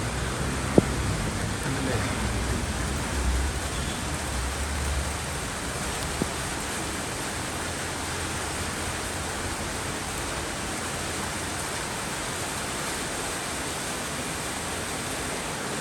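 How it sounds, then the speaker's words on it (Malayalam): A soft, even patter of light rain falls continuously, with a couple of faint taps near the start and no talking. "ഫെബ്രുവരി രണ്ടാം തീയതി പെയ്യുന്ന മഴയാണ്"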